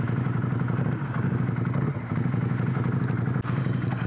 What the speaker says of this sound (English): exhaust is a lot tamer than I was suspecting